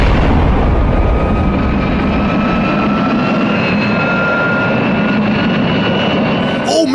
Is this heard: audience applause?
no